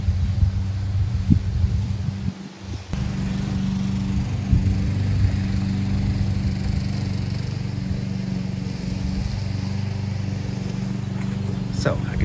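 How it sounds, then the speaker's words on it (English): A lawn mower runs steadily behind a château, a constant droning engine hum that stays loud throughout with a brief dip near the start, while a person talks over it. "Here Patrick is mowing back here"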